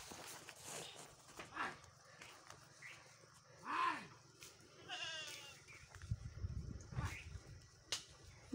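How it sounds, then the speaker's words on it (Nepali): Out on a rural Nepali farm where ploughing is going on, a goat bleats a few times. The calls are faint and fairly distant, set against quiet outdoor background noise and some low activity. "बाख्रा फेरि कराइरहेको छ"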